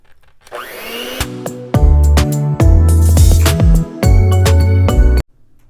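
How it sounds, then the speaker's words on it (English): Electric hand mixer beating cake batter for a butter and cinnamon coffee cake, a loud close motor whine that starts, steps through speeds and cuts off abruptly, with beaters clattering in the bowl. "I decided I need a new hand mixer"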